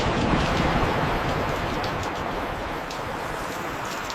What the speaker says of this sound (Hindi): अरे 1 सेकंड, बारिश आ रही है